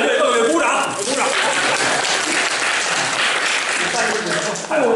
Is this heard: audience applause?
yes